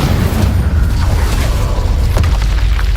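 Incendio fire spell blasting in the Hogwarts Legacy video game: a loud, sustained booming rumble with dense low-end roar and crackling bursts throughout, heavy and close, with no voices.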